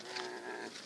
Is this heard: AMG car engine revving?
no